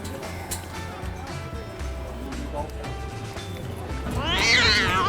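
A cat meows a few times near the end, close and fairly loud, at an outdoor seaside sports bar in Bucerias, Mexico, with background noise and some human voice.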